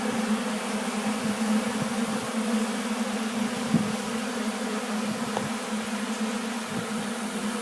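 Honeybees at an open-air winter feeding station buzz in a dense, steady, close drone, with a few individual bees passing nearer.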